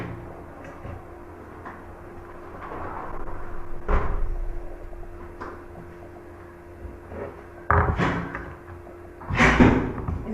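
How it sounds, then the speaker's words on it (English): An indoor door closes with a sharp thud near the four-second mark, followed by further knocks and bumps over steady room hum; someone speaks briefly near the end. "Just I have closed the door."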